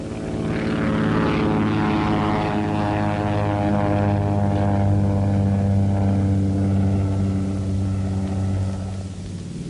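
Steady droning roar of a propeller aircraft engine, loud and close, as the plane comes back aboard an aircraft carrier flight deck in the Pacific war, holding for nearly ten seconds before easing slightly at the end.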